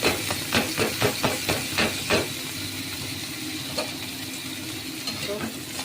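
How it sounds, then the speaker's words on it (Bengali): Rice grains fried in oil in a pan with a quick run of rhythmic scraping stirs over a bright sizzle at first, then a steady, softer frying hiss continues on its own. "তেলে এবারে চালগুলোকে একটু ভেজে দিয়ে"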